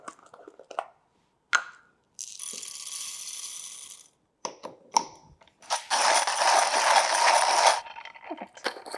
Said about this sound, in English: I'm going to grind it using my Comandante